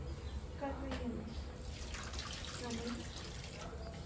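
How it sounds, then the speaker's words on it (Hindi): Water pours and splashes softly in a steady stream onto plants, faint and close, with muffled voices in the background. "पौधों को पानी दे रही है।"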